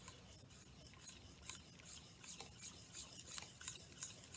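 Challah dough ingredients being stirred by hand in a bowl: a faint, steady rasping and scraping with rhythmic strokes, quiet and close, no talk.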